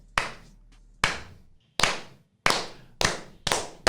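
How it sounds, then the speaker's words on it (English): Slow clap from a small group, six or seven separate sharp claps spaced about half a second to a second apart, close and loud with silence between them and no talk. "Nice slow clap."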